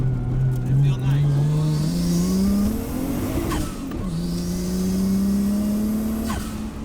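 A Nissan 240SX with a swapped 1JZ engine accelerates hard from inside the cabin, its engine note climbing through gears with a brief drop between, tires losing traction, while people talk over it.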